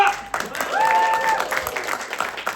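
An audience at a music course event in Charolles applauds the orchestra's lead violinist, a dense burst of clapping that swells and then fades gradually, with a voice heard briefly over it.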